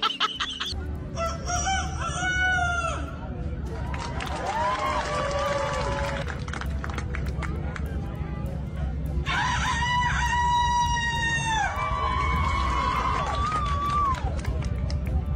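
At a rooster crowing competition, several people take turns imitating a rooster's crow with rising and falling cries. The calls sit over a steady crowd murmur and outdoor hum, with some shouting in between.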